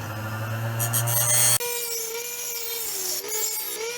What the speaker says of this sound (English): So I like to take a pair of vice grips. Let's get them a little tighter than that. Turn on my grinder.